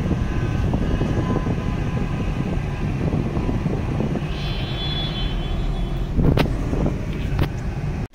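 A Hyundai Grand i10 Nios on a long continuous drive, heard from inside as a steady broadband road and engine rumble with some wind noise and a couple of brief knocks near the end.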